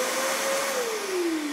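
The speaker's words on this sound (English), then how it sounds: "Got the vacuum plugged in." A shop vacuum runs steadily with a droning motor whine that slowly drops in pitch, close and continuous, during work on a Toyota Tacoma light housing installation in a garage.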